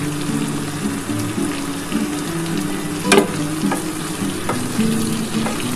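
Onion, garlic and green chillies fry in fish oil with a steady, close crackling sizzle, broken by a few sharper pops and spatters and a brief clatter of stirring near the middle.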